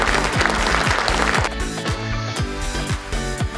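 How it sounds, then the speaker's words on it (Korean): Ceremony audience at a Korean public procurement day event claps in a broad wash that softens after a second and a half, with a steady rhythmic thumping underneath. "축하의 박수 보내주십시오."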